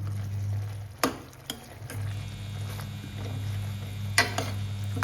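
A ladle stirs potato and capsicum masala in a pan: a few sharp metal clanks and scrapes over a steady, soft sizzle.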